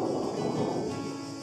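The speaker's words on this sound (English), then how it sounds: "I can hear the thunder." A low, continuous rumble of thunder over the Greek island of Kythnos rolls on steadily for the whole moment, broad and heavy, with no voices over it.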